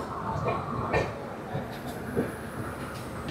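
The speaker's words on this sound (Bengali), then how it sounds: "নির্ধারিত টাইমেই আমাদের ট্রেন ছেড়ে দিয়েছে।" The 12369 Kumbh Express pulls out of Asansol station in the rain, a continuous rolling rumble with soft rhythmic rail clatter close by.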